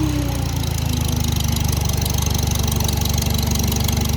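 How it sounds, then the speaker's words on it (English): A 1954 Farmall Super C tractor engine running a hydraulic pump, a loud, steady, close chugging idle with a fast even pulse that carries throughout. "The tractor will hesitate, but that's because it's running a hydraulic pump."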